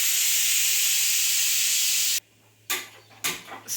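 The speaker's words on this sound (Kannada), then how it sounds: "ಇನ್ನೊಂದು ಸ್ವಲ್ಪ ಸ್ಟೀಮ್ ಇದೆ. ಅಮ್ಮ ಓಪನ್ ಮಾಡ್ತಿದ್ದಾರೆ." Steam hisses loudly and steadily from a pressure cooker after dal has whistled twice, then cuts off abruptly and returns in a few short, sharp spurts as the lid is worked open.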